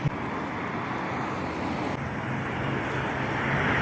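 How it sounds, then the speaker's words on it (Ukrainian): City bus approaching a stop on a Lutsk street, heard as a steady broadband engine and road rumble that slowly grows louder amid ambient traffic noise. "Так, ось на під'їзді автобус."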